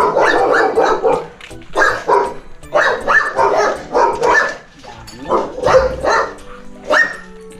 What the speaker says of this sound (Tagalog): Yan yung mga aso nila na Kalinga.